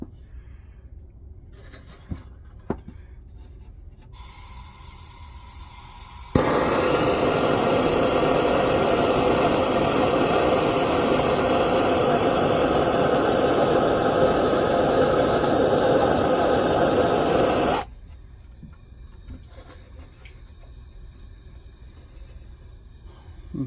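A Kamplite inverted camp stove valve is opened a quarter turn, releasing a sudden loud, steady hiss of fuel that holds for about ten seconds and then cuts off abruptly, with quiet surroundings before and after.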